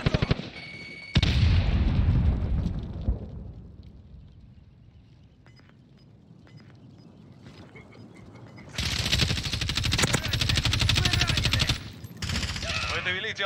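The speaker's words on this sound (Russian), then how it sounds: "Кидаем гранату!" Grenade blast and bursts of automatic gunfire from a shooter video game, loud dense firing at the start, a quieter stretch, then a long heavy volley of shots toward the end.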